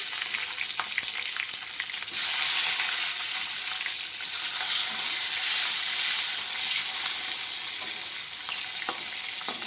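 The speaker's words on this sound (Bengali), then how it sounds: "ফোড়নটা হয়ে গেছে আমি এবার যে ক্যাপসিকামগুলো কেটে রেখেছিলাম আমি ক্যাপসিকামগুলো দিয়ে দিচ্ছি" Chopped capsicum sizzling in hot oil in a pan after a bay-leaf tempering, for a prawn dish: a loud, continuous frying hiss that swells as the pieces go in, with occasional faint stirring clicks.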